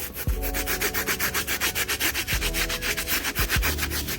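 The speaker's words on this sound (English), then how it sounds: "I'm going to take a wire brush and just go ahead and scrub the soles with that" A wire brush scrubs the rubber soles of Air Jordan 5 Wolf Grey sneakers in loud, close, rapid back-and-forth strokes with a few dull knocks mixed in, and no one speaks.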